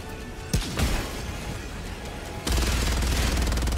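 Gunfire from the video game Helldivers 2: a couple of sharp shots at the start, then a dense, continuous burst of rapid automatic fire that grows louder and keeps going to the end.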